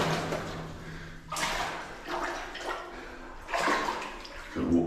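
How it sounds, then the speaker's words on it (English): Footsteps wading slowly through knee-deep water in a flooded tunnel of an old New Zealand gold mine, with sloshing splashes in bursts and pauses, echoing close by in the enclosed level. "just got off the board and it's getting up to my knees in water."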